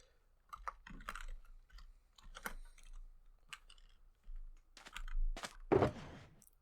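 Computer keyboard typing during a game, a few scattered clusters of key presses with gaps between them, close and moderately loud, ending in a brief denser flurry of keystrokes.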